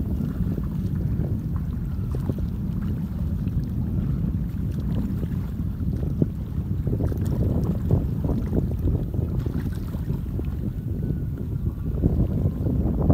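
Strong wind blows across open rice fields in the countryside and buffets the microphone, a continuous loud low rumble with gusty surges throughout.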